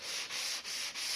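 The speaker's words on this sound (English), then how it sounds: "So we just give this a light sand" Light hand sanding of sealed interior door timber with fine sandpaper, heard as three or four close, soft, raspy back-and-forth strokes with brief pauses between them.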